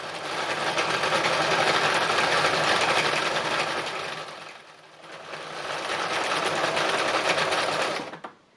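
Sewing machine running steadily while stitching green thread on an embroidery piece, a loud continuous mechanical whir with a brief slowdown midway before it resumes and stops at the end.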